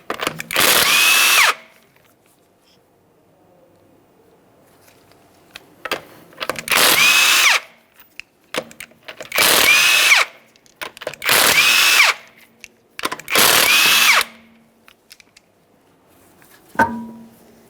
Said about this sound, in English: you're going to remove all 5 of your 19mm lug nuts